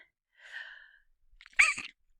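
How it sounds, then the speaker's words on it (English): A single sharp sneeze rings out close by, preceded by a brief soft intake of breath, then silence. "I had a sneeze there"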